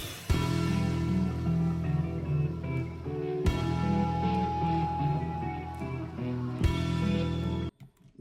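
A tolling bell rings through a live metal performance, its strikes landing roughly every three seconds over sustained guitars and crowd ambience.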